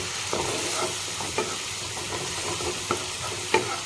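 Chana masala spices frying in oil in a pan, a steady sizzle broken by a few sharp clicks and scrapes of stirring, close up with no talk.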